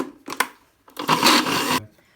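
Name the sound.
grinder grinding sesame into tahini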